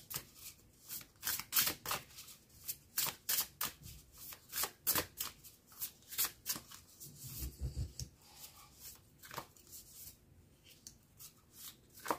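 Oracle cards shuffled by hand for a reading, a steady run of soft, papery riffles and slaps repeating throughout, close and fairly quiet with no talking.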